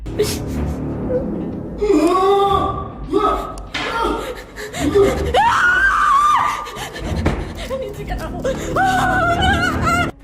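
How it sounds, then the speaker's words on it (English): A man yelps and roars in a frightening scene, with loud, strained cries that rise and fall in repeated bursts across the clip, alone and close. "He yelps and roars again, rising to his feet."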